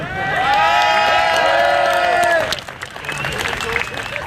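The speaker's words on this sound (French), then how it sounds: "qu'on leur fasse une grosse ovation" Crowd applause and cheering at a Nuit Debout night-time general assembly, loud and sustained with whoops, then dropping to a lighter patter of claps mixed with crowd noise as a voice comes in over it.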